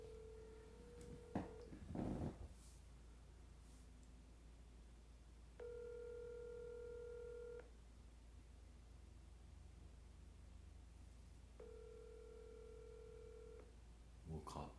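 A phone call being placed to a tattoo artist in Miami: short dialing tones, then two long ringback tones with a quiet pause between them, over a steady low hum, with no talk.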